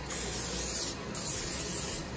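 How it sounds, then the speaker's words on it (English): Canola oil is sprayed onto a Ninja Foodi grill in two close, hissing bursts, each about a second long with a short break between them. "The next thing we're gonna do is spray it down with a little bit of canola oil."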